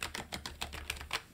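Typing on a Logitech MX Mechanical Mini keyboard gives a quick run of soft, muted keystrokes in an uneven rhythm, close but quiet, with no voices.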